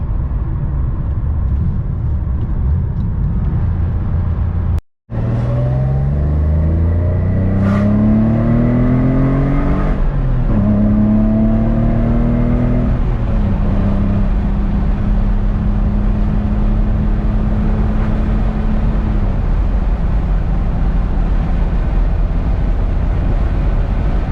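A vintage Porsche 911 drives on mountain roads, its engine revving up through several gears with rising and falling pitch, loud and close, after a brief cut near the start, then settling into a steady cruise.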